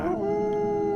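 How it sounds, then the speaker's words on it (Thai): A single sustained dog howl holds a steady tone, fairly faint and alone, during a stormy night. "เสียงหมาหอนดังลงงไปทั่ว"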